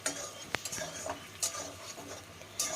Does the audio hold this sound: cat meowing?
no